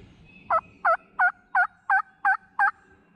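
A wild spring turkey gobbler gobbles seven times in an even, rapid series of clear calls, carrying loud over a quiet outdoor background with no talking.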